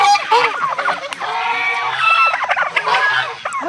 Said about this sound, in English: Who released the turkeys?